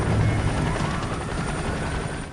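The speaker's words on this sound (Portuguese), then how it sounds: "Dava para ouvir um helicóptero à distância." A police helicopter drones steadily from afar near the Potomac River, its rotor chop a low, continuous throb that stays fairly faint and unchanging.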